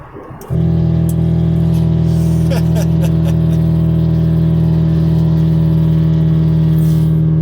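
A Fiat Marea 1.8 16v with an exhaust diffuser starts idling abruptly after a brief quiet moment, then holds a loud, steady, droning hum with a few faint clicks near the start.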